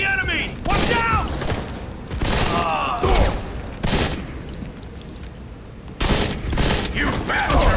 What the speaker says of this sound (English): Enemy suppressing fire!